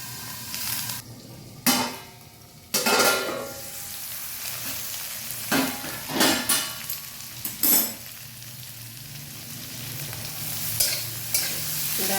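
Gourd leaf stalks cooking in a pan on low flame, with a soft steady sizzle broken by a series of loud spatula stirs and scrapes against the pan, close by, with no talking.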